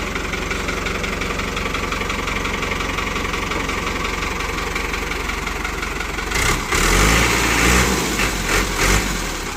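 A New Holland 5630 tractor with a 75 hp diesel engine idles nearby, a steady, even rumble with a brief louder surge late on, and no talk over it.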